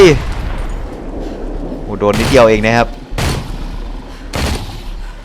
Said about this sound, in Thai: มีระเบิดก็ต้องใช้ระเบิดอะจังหวะเนี้ย โอ้โห ด้านหน้า ระเบิดไป